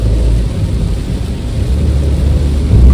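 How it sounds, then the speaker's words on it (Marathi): Heavy monsoon rain with thunder on a rural road in Konkan, between Nevali, Ganpatipule and Malgund: a steady, loud, deep rumbling roar of downpour and thunder that never lets up, with no voices. "पावसाची दमदार हजेरी आहे पाऊस कमी व्हायचं नाव नाही येत आहे"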